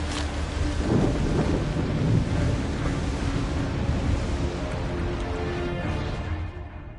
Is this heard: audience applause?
no